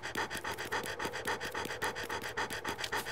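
A pet dog in the horror game Ju-On pants fast and rhythmically, close up and steady, with no talk.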